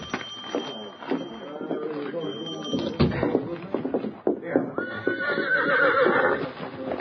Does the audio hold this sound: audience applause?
no